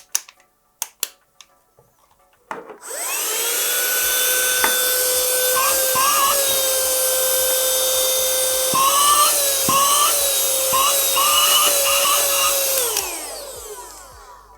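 A small car vacuum cleaner, a Parkcity C3089-1 running on 12 volts, whirs to life with a high, steady whine that runs for about ten seconds and then winds down, preceded by a few clicks.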